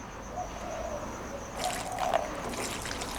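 Windex glass cleaner pours into a cup of skateboard bearings, a soft, close trickle of liquid that grows a little stronger partway through over faint background noise.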